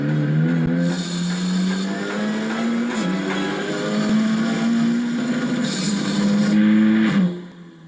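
An Ariel Atom 4R, a stripped-down, open-frame sports car, accelerates hard with a loud, close engine note climbing steadily in pitch, broken by brief dips as gears change, before the sound cuts away at the end.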